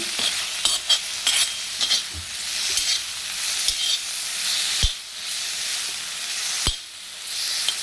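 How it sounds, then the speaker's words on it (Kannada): Chopped tomatoes frying in hot oil for a paneer masala gravy, a steady bright sizzle with scraping stir strokes and a couple of sharp utensil knocks against the pan, no voices. "ಎರಡು ಟೊಮೊಟೊನ ಕಟ್ ಮಾಡಿ ಹಾಕಿದ್ದೀನಿ ಸೊ ಚೆನ್ನಾಗಿದು ಆಯಿಲಲ್ಲೇ ಸ್ವಲ್ಪ ಟೈಮ್ ಫ್ರೈ ಆಗಬೇಕು"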